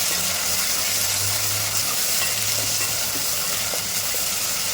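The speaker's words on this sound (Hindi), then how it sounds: "इसको भूनेंगे अदरक लहसुन के पेस्ट के साथ में" Chana dal is fried with ginger garlic paste in a pan, giving a steady, dense sizzle with faint stirring scrapes underneath, close and continuous throughout.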